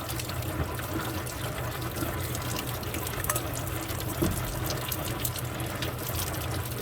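Tap water runs steadily as tumbled rocks are rinsed, a continuous soft splashing that is fairly quiet with small irregular spatters.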